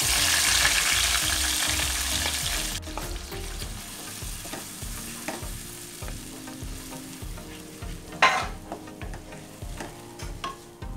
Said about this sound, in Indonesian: panaskan minyak goreng, lalu tumis bumbu halus